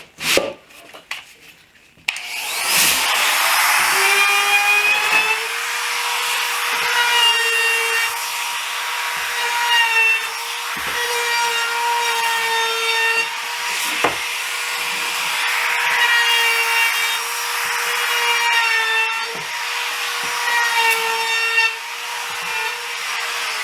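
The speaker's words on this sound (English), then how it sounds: "I'm only going to router the top side only on both sides" After a brief startup, a wood router cuts along the top side of coffee table boards with a loud, close, continuous whine and rasp that shifts slightly as it moves along the wood.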